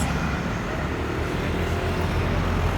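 Steady traffic rolling past the Suadiye bus stop on Bağdat Avenue in Istanbul, a continuous broadband roar of passing vehicles, fairly close and even, with no talk.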